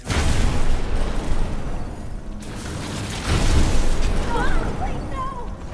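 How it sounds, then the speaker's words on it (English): Explosive gel detonation in Batman: Return to Arkham Asylum, a loud, broad boom that stays heavy across several seconds with a second surge of rumble midway, followed by whistling, crackling debris tones. "It's a good thing Dr. Young wasn't buried in that explosion"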